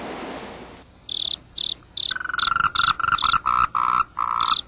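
Sauter's brown frogs calling from stones in a brook after a summer thunder shower: repeated short, bright call bursts in a steady series, close and clear over faint running water.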